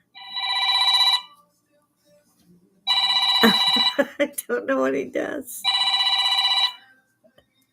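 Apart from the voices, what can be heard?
phone ringtone from a potential spam call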